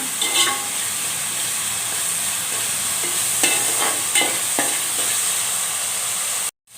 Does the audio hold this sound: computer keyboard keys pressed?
no